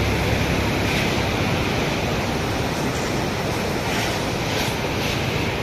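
Forceful river water rushes over the Birupa river dam at Choudwar near Cuttack, a loud, steady roar of churning water that stays continuous and close throughout.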